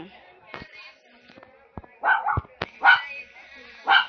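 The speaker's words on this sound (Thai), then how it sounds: "มีคนมาเนะมาก็เลยเห่านะ" A dog barks at someone arriving, several sharp barks and yips in short bursts, fairly close, between quiet gaps and brief clicks.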